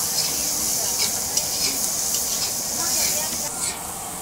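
Turmeric and garlic paste fries in hot oil in a home kitchen, giving a steady, close hiss and sizzle with faint stirring beneath, while voices talk over it.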